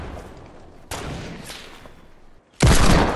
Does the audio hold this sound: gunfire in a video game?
yes